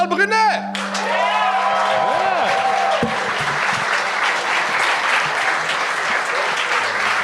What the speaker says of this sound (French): faites un tonnerre d'applaudissements pour Charles Brunet